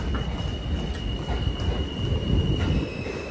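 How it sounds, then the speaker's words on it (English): A passenger train pulls away and rolls along the rails, a loud, dense rumble heard from on board with a high steady wheel squeal above it and no talking. "I'm on a train."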